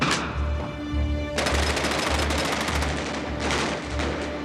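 A Thompson submachine gun fires in loud, rapid bursts of automatic shots, each burst a dense rattling volley, close and dominant with no talk.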